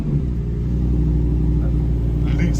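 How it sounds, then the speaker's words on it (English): A Lamborghini Huracan Performante V10 fires up, a deep steady engine rumble filling the whole moment, loud and close, with a voice talking over it. "I'm going to put my foot on the brake, I'm going to press the start button."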